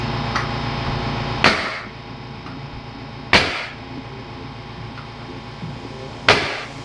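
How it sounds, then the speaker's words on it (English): Nails are driven during bathroom work, with three sharp, loud strikes spaced a couple of seconds apart over a constant background hum. "Finish nailing this in"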